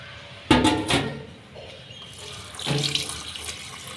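Tap water runs into a sink as cut bottle gourd flowers are rinsed in a home kitchen, a close splashing gush starting abruptly, easing briefly, then surging again.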